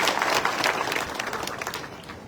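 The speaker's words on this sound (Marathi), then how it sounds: "सर्वांनी टाळ्या वाजून आदरणीय भाऊंचं स्वागत करायचंय" A brief burst of dense clapping from an audience at a political workers' meeting, welcoming a speaker, steady and close and tapering slightly at the end.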